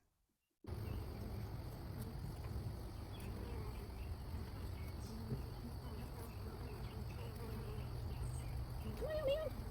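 Honey bees in a newly installed hive, six and a half weeks old and showing possible swarm behavior, give off a dense, continuous buzz that sounds close and loud. It starts abruptly and holds steady, with a faint voice near the end.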